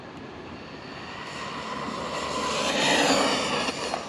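A Cobra 10 RC car running on 3S at full throttle gives a steady, rising electric whine with broadband roar, moderately loud and continuous, building in intensity toward the end.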